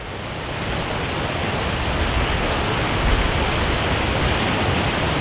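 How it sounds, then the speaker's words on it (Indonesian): Strong wind roaring across a beach, a dense, steady rush of noise with no breaks, loud and close to the microphone, with no talking. "Buset, anginnya gede banget, sumpah."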